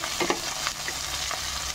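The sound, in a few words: sautéing ingredients for snails and fern dish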